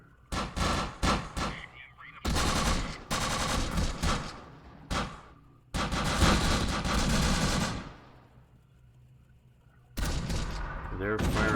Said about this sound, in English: They're firing up at the guys at the top there